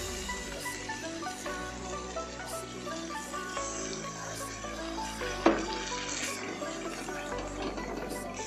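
A little water is poured into a pan of Shahi matar paneer gravy with cashew and melon seed paste, giving a soft splash and a steady hiss of sizzling, plus one sharper clink partway through.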